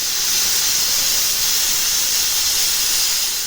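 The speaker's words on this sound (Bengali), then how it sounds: "মাংসটাকে প্রেসারে বসিয়ে দিয়েছি। এবার আমি ঢাকা দিয়ে দিই। আমি প্রথমে 3টে সিটি দিয়ে নেব।" Pressure cooker cooking marinated mutton, releasing a constant loud hiss of escaping steam that holds steady without pause or voices.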